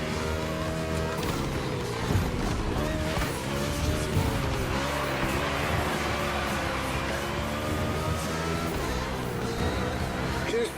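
A NASCAR-style race car in The Crew Motorfest racing game, its engine droning steadily with shifting pitch and tires squealing throughout, loud and continuous.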